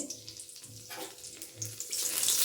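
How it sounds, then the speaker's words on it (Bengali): Two bay leaves drop into hot ghee in a pan, and a soft sizzle and crackle swells louder toward the end of the brief moment. "এখানে দুটো তেজপাতা নিয়েছি, আমি দিয়ে দেবো ঘিয়ের মধ্যে।"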